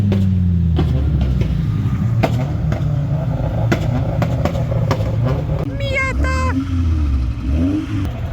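Mazda RX-7 FC3S driving, with a steady engine drone and road noise throughout and a few brief whining tones near the end, under speech.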